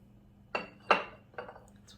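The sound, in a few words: dishes clinking as food is moved into a smaller bowl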